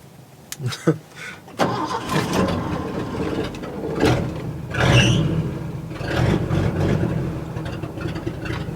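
A manual-clutch vehicle engine sputters, catches and runs roughly, then falters and stalls after the clutch is pushed in. A person talks over the uneven engine noise.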